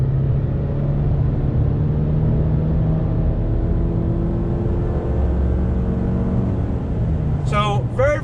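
A 2020 Subaru Legacy midsize sedan accelerates, heard from inside the cabin as a steady low engine drone and road rumble that holds through the clip, with a brief higher chirp near the end.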